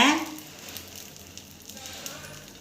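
Dosa batter sizzling in oil on a hot pan, a sharp hiss at the start settling into a steady soft crackle and fry that carries on quietly.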